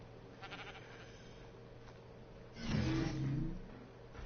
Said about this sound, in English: it's an aberrant ovis, or sheep